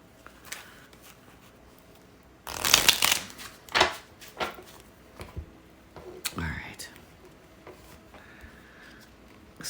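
Tarot cards riffle in a loud burst, followed by several shorter shuffling and tapping sounds, with quiet breathy talk in between.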